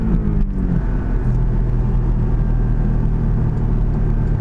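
A 2019 Porsche Cayman GTS with a manual gearbox accelerates hard in second gear, its engine a steady, loud low rumble that holds throughout without speech over it.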